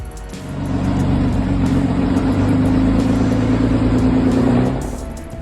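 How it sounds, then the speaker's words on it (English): A truck engine labours up a steep hill, a loud, deep, sustained drone that swells in over the first second, holds a strained, steady pitch, then fades at the end. "the truck groaned its way up the hill"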